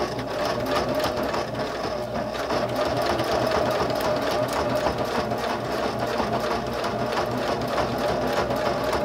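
A sewing machine runs steadily and loudly without pause, stitching around a fabric bag handle cover that wraps a luggage or backpack handle, its fast, even hum filling the whole stretch.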